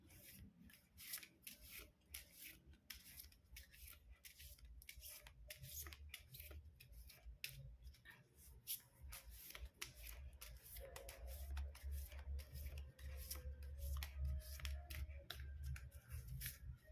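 Tarot cards being shuffled by hand, a soft continuous run of riffling and rubbing card sounds, close and quiet, with no talking.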